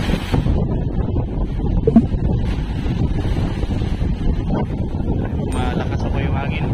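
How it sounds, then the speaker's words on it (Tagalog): Strong wind from an approaching typhoon buffets the microphone in a constant low roar off the coast of Dilasag, Aurora, with boat and rough water noise beneath and a voice speaking over it. "Malakas po yung hangin."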